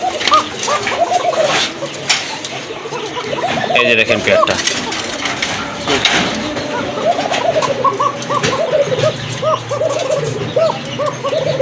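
Domestic pigeons being sold in Bangladesh, a female near egg-laying, coo repeatedly in soft low bursts close by, mixed with people talking over them throughout.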